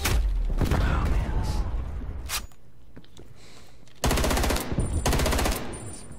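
Automatic gunfire in a PlayStation 5 multiplayer shooter during a hardpoint match: loud, close, rapid bursts of shots, with a pause in the middle before another long, dense burst.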